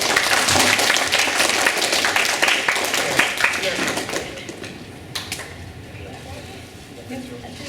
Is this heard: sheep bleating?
no